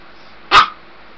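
One sharp, loud bark from a pet dog, close by and alone against quiet background hiss.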